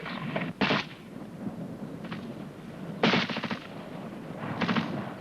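Gunfire in a military training film on section fire and manoeuvre: a few sharp, loud reports with ringing tails, spaced irregularly over steady background noise, with no talk.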